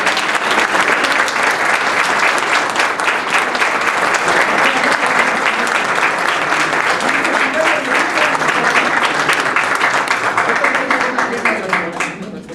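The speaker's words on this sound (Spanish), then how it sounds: "vamos a dar un aplauso también a Sergio" Audience at a psychoeducation session with an award presentation gives Sergio a loud, sustained round of applause, dense clapping that holds steady for about twelve seconds with some crowd voices mixed in, then fades.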